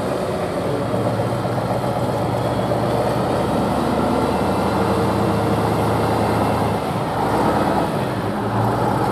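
A truck engine runs at a truck trial event in Mohelnice, a continuous loud rumbling drone with a deep low throb, holding steady throughout with outdoor background noise and no clear speech.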